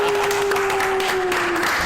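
An audience applauds a pop band with brief, steady clapping that runs under a sustained tone for under two seconds.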